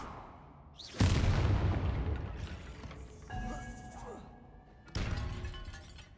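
A Confringo blasting spell explodes in Hogwarts Legacy, inside ancient catacombs: a sharp, loud burst that decays over a couple of seconds, followed by a fainter rumbling hit and then another strong blast near the end.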